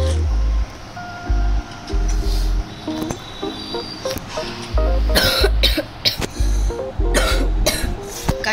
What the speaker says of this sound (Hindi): मेरे को बहुत खांसी हो रही है